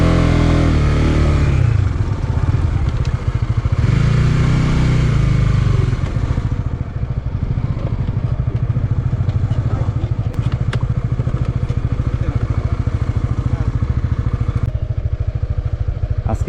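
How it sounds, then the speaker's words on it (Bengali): A motorcycle engine revs and labors along a muddy, rain-soaked rural road near the Meghalaya border in Netrokona during the monsoon. It is loud and close, with surging bursts and clattering that give way to a steadier drone. "আজকে বৃষ্টি হওয়ার জন্য রাস্তাটা এতটা কাদা হয়ে গেছে যে বাইক নিয়ে যাওয়া খুব কষ্ট হয়ে যাচ্ছে।"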